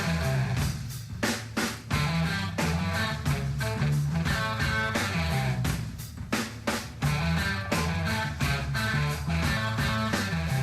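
An excerpt of a full-band rock song in 15/16 time, dense drums, bass and guitars driving a dense, continuous, loud groove with sharp percussive accents and no one talking.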